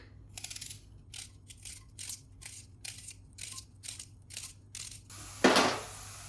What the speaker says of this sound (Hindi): यहाँ पे काट लेंगे प्याज ब्रीक ब्रीक